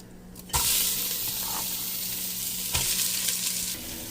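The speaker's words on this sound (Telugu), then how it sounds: "దీంట్లో ఉల్లిపాయలు వేసేద్దాం" Onions hit a hot pan for a spicy country-chicken curry, bursting into a loud, sudden sizzle that settles into steady close frying with a couple of brief utensil taps.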